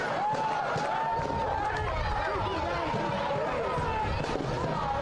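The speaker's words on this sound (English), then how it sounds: "You can hear this crowd. It is alive." Dense crowd noise fills a soccer match between Sarasota Paradise and AV Alta FC, a steady roar of fans with a commentator's voice running over it throughout.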